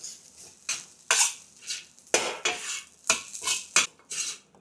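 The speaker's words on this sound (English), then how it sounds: "add the fluffy scramble into it. And mix everything together over low heat." A utensil scrapes and clatters against a pan while Yangzhou fried rice with fluffy scrambled egg is mixed over low heat, with sharp rhythmic strokes repeating about once a second and a faint sizzle beneath.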